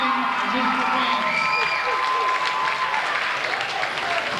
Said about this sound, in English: Let's give them one more nice round of applause.